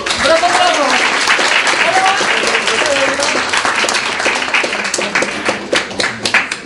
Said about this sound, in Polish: To teraz brawa dla Was wszystkich.